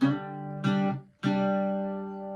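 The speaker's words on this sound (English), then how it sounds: "Now we're just going to back up the open A with an open D as well." An Irish bouzouki sounds an open A backed with an open D as a two-string chord, struck twice with the second strum ringing out and decaying slowly, played alone.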